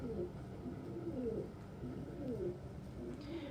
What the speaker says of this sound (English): Oh, hello, Bird.